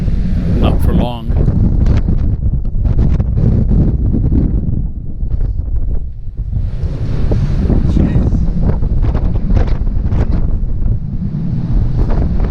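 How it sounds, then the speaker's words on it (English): Strong hurricane winds buffet a microphone at Meteor Crater, a loud, constant roaring rumble with gusty surges, and a person speaks briefly under it. "That's some serious frickin' wind"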